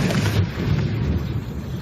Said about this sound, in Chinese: 远方也清楚传来轰隆爆炸声